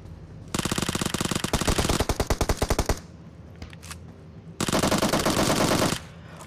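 Uzi submachine gun fire in the mobile battle royale game BGMI: two long full-auto bursts of rapid shots, loud and close, separated by a short pause with faint clicks.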